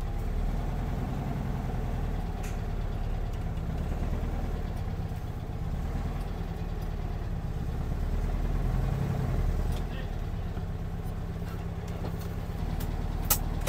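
Mitsubishi Montero SUV engine running while reversing, a steady low rumble with a faint higher whine, continuous and close throughout.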